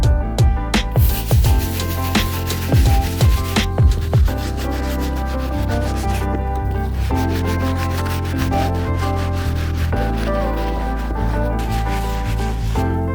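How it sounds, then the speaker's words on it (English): A soft bristle brush scrubs grime from the uppers of thrifted Superstar sneakers, a loud close rhythmic rubbing with quick strokes at first, then steadier scrubbing throughout. "The first brush we're gonna be using is our soft bristle brush, so we can start breaking down all the grime and dirt on the uppers."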